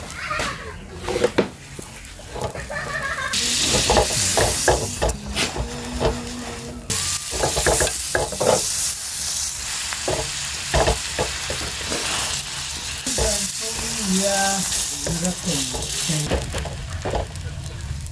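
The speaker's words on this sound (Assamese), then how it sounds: "বাটাৰটো গৰম কৰি আছোঁ" Butter heating in a pan for homemade vegetarian burgers, a steady sizzle and hiss with occasional stirring scrapes, fairly quiet and close, with a voice speaking intermittently over it.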